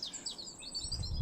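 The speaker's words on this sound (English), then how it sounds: "All you can hear is the beautiful birds singing their hearts out." Songbirds chirp and trill steadily in a garden on a grey, drizzly spring day, their bright calls close and continuous over a soft background hiss.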